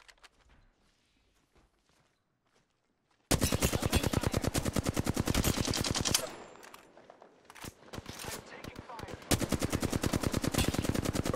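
Rapid automatic gunfire from the Apex Legends video game bursts in after a quiet start, loud sustained volleys with a brief lull before shooting resumes, no talk over it.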